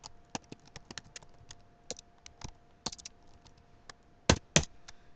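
Code is typed on a computer keyboard in irregular bursts of crisp, close key clicks, quiet overall with a couple of sharper, louder strokes near the end.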